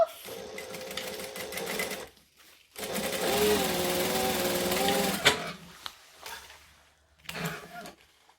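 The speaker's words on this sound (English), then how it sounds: "I'm just going to stitch the two sides and leave the bottom open because this is where we're going to turn our bag through at the end" A sewing machine stitches the sides of a fabric bag at a 2.5 stitch length. It whirs in two longer runs and then a short final burst, with quiet pauses between them.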